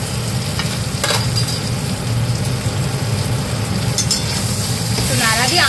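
Potatoes for aloo dum fry loudly in a pan with onion and chilli paste, giving a steady dense sizzle. Stirring adds scraping and shuffling, with a faint voice underneath.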